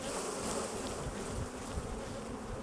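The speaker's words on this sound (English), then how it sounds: "So I'm just going to shake these bees off," Honey bees are shaken off a brood frame at an open hive, giving a dense, continuous buzzing swarm that stays loud and close throughout with no voices.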